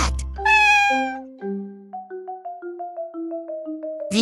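A cat meows in a long, loud opening cry followed by a rhythmic series of shorter, rising and falling meows, close and clear with no talking.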